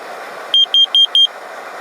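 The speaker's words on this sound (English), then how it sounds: "I have this unit that measures the carbon monoxide. So the only thing I do is turn it on" A handheld carbon monoxide meter switched on during winter expedition training lets out four short, evenly spaced high beeps, close and loud, over a faint background hiss.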